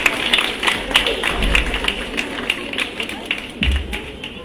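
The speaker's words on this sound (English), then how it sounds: "give them a big round of applause" Audience applause at an award ceremony for the Army Welfare Education Society excellence awards, a steady crowd clapping sustained through the moment with scattered sharper claps and a low rumble underneath.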